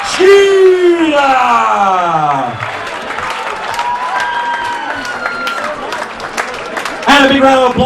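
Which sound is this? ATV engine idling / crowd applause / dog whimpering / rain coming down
crowd applause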